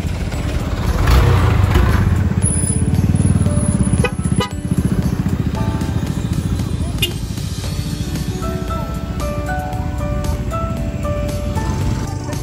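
Busy holiday road traffic on a winding route between Serukam, Bengkayang and Singkawang, with motorcycles and cars droning past close by and engines revving under steady talk, plus a few short horn toots.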